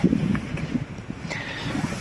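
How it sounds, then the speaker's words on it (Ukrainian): Low rumbling gusts of draughty indoor wind buffeting the microphone, steady and fairly loud, with no talking. "Вітер, вітер, тут сквозняки гуляють."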